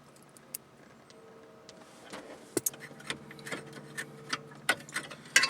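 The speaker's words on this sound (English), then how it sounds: "So take out all 4 10mm bolts." Small metallic clicks and light taps from 10mm bolts being removed on a Honda/Acura, faint and sparse at first and then growing into a quicker run of close ticks and clinks.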